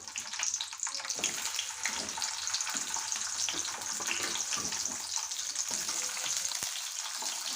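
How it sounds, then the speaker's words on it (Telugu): Ivy gourds fry in hot oil with a bright, crackling sizzle close up. Uneven pops and soft scraping or clattering come and go over the steady frying, and no one talks. "ఆయిల్ హీట్ అయిందండి ఇప్పుడు ఈ దొండకాయలు అయితే ఇందులో వేస్తున్నాను"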